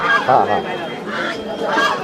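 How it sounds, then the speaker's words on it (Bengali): Fowl at a centuries-old poultry market give repeated honking, squawking calls in three bursts over a busy crowd murmur, fairly close and loud. "এইদিকে দেখতে পাচ্ছেন মোরগ মুরগি।"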